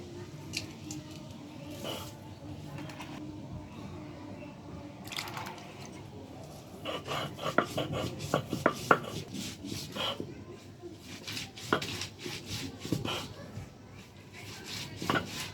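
Fresh ginger is ground into a paste on a flat stone slab with a grinding stone: repeated scraping, rubbing and crushing strokes, near and moderately loud, in an uneven rhythm that grows busier partway through.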